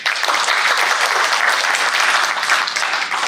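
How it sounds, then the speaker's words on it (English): A dense, steady wash of audience applause fills a leadership awards ceremony, holding an even loudness from start to finish with no talk over it. "a little applause would help."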